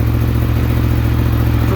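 A 2017 Yamaha FZ-10 motorcycle idles after a cold start, its engine holding a steady, loud, close, even mechanical chug throughout with no revving.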